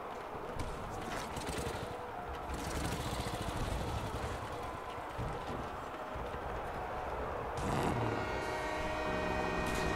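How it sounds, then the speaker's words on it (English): A train in the video game Call of Duty Black Ops rumbles loudly with a dense, rhythmic clatter of wheels on rails, and a sustained horn-like tone joins near the end. "That is the train!"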